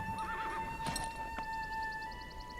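A horse neighs and its hooves clip-clop in the mobile RPG game Green Glass, a rider crossing a river. The quiet whinny rises over soft, even hoofbeats, with a thin, steady musical tone running beneath.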